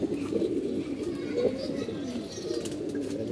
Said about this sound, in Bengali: এটা একটা আর্মি কবুতর, খুব সুন্দর একটা কবুতর